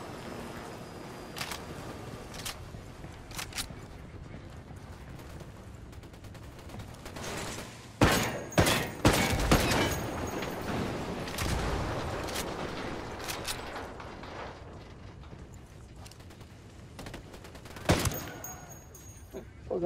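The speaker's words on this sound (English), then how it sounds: "Sorry for some mortar fire." Mortar blasts and gunfire ring out in the Ghost Recon Wildlands video game, with scattered distant shots early, then a loud cluster of heavy explosions and crackling bursts mid-way, and another sharp blast near the end.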